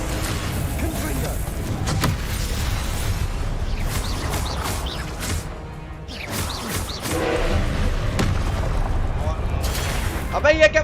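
A fiery Confringo blast spell in Hogwarts Legacy gameplay goes off as several sharp, booming bursts over dense game ambience, with voices talking over the action.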